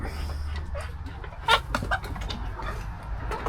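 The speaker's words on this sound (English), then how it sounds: "That is a beautiful chicken." An Americana chicken on a small farm with goats, pigs and rabbits clucks several times, with a sharper squawk near the middle, close by and without talk.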